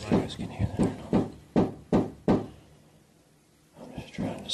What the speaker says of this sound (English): It sounds like somebody knocking.